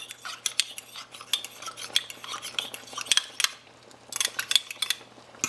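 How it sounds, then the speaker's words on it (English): A utensil stirs lemon pie filling in a pot, scraping the bottom and sides with irregular clinks and scrapes, some louder than others, close up and with no voices. "stir this, make sure there's no lumps in the bottom"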